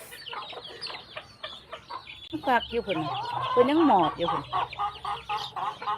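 Several chickens cluck and squawk near at hand, with rising excited calls in the middle, while a person talks over them at times.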